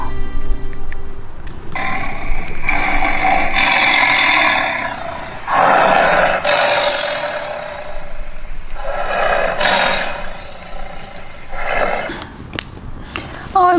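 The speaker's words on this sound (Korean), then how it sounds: "유튜브에 호랑이 소리 있잖아요." A loud, rough tiger roar played back from a phone plays in long bursts against a steady hiss of rain at a campsite, with breaks of quieter noise between them.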